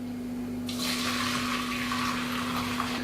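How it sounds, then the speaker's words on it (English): Fish head broth being poured and strained through a sieve into a pan for tom yum, a steady close trickle and splash of liquid starting after a brief pause and running continuously. "I'm going to put it through a sieve."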